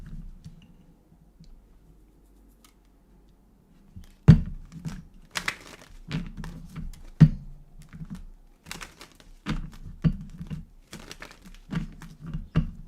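Tarot cards are shuffled up close in a series of crisp riffles and slaps, sharp irregular bursts following a quiet start with a low background hum.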